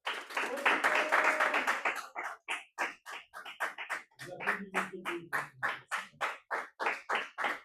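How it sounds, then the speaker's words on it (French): Applause for Titouan at an internal advocacy debate match: a burst of scattered clapping gives way to slow, loud rhythmic clapping in unison, close by, with a few voices and humming mixed in partway through. "On peut applaudir Titouan."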